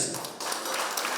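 Crowd applause at a holiday celebration in Baku, a dense, steady wash of clapping from many hands, fairly loud and continuous with no clear break.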